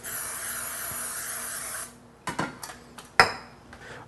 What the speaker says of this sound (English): Spray it down in our bowl here.